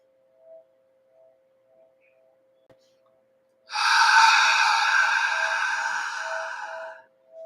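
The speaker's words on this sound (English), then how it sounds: "we're gonna breathe in really far, as much as we can, fill up both the belly and the top of the lungs, and then we're gonna release" A group takes a deep breath in and then releases it together, a broad breathy rush of several people exhaling at once that lasts about three seconds and then fades, with near silence before it.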